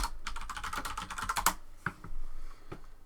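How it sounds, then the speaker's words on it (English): A computer keyboard being typed on close by: a quick run of crisp clicking keystrokes, then a few separate taps after a short pause, with no one speaking. "Let's type it."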